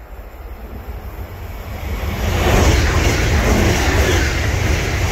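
An ICE3 high-speed train passes through Woltersdorf (Nuthe-Urstromtal), a broad rushing roar that swells loud partway through and holds steady to the end.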